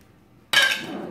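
Rose gold tablespoons are picked up and clink together in a home kitchen while dill pickles are being made, a sudden bright metallic rattle that rings on briefly after near silence.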